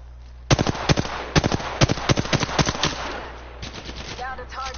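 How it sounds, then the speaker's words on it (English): Enemy gunfire rattles in Apex Legends, a loud close burst of rapid shots in an uneven rhythm that then tapers into quieter game sounds with a brief tonal cue. "The enemies are shooting at me."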